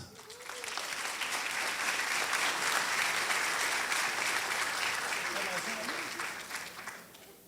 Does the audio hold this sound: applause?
yes